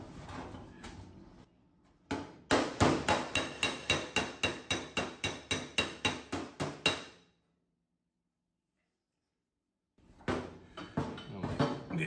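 A slapper hammer strikes a dented body panel on a 1966 Triumph GT6, with a fast, even run of about a dozen sharp metallic taps, then a pause of silence before another burst of rapid blows.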